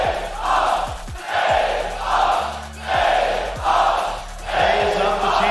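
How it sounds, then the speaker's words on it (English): Large esports crowd chanting at the Rocket League Winter Major grand finals, Karmine Corp versus FaZe, in the San Diego Convention Center: loud rhythmic chant swelling in regular waves, roughly five pulses, with clapping and horn-like tones underneath. "Listen to this crowd."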